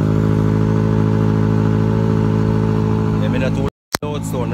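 A modified 2002 car engine roars with a loud, steady, droning note that holds for several seconds, then cuts out abruptly and briefly before resuming near the end.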